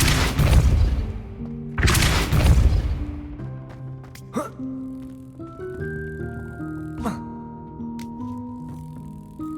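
A Depulso spell is cast in Hogwarts Legacy, two loud booming whooshes up front, then quieter magical chimes and sustained tonal effects with a few sharp clicks trailing off.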